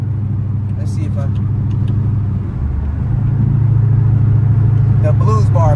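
A Hemi-powered car's engine rumbles steadily and loud while driving at night, a deep low drone that swells and grows fuller about halfway through, with faint voices and brief higher tones near the end.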